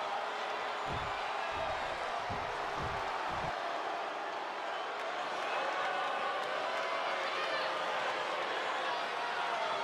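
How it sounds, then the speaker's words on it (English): A loud wrestling arena crowd at a WWE Crown Jewel 2024 women's title match roars in a steady, dense wash, with a few low thumps early on. "Listen to that crowd!"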